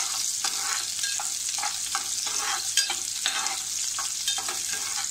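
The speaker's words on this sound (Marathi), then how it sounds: "थोडासा कांदा घालायचा आहे. आपल्याला हे थोडंसं परतून घ्यायचं आहे." Onion sautéing in a pan for yam masala bhaji, a steady close sizzle with repeated stirring scrapes throughout, no voices.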